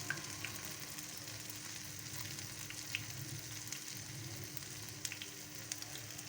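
Small hand-rolled potato balls frying in hot oil, a steady broadband sizzle with soft crackles and occasional pops, fairly close and continuous with no talking.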